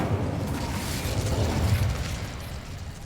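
The Incendio fire spell in Hogwarts Legacy releases a short, roaring burst of flame, a loud whooshing blast with a low rumbling body that tails off slightly over a few seconds, heard alone.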